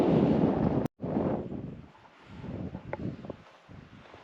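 Wind buffeting a hilltop in Snowdonia, roaring gusts against the microphone that rise and fall, loud at first, then a brief cut-out, then gustier and patchier blowing.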